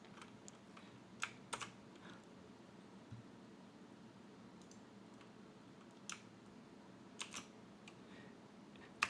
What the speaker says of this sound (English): as I was typing that out